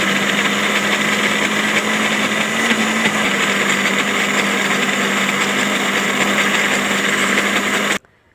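A kitchen blender grinds sesame seeds, peanuts and flour into homemade raw tahini, a loud steady motor whir with gritty churning that runs unbroken for about eight seconds and then cuts off abruptly.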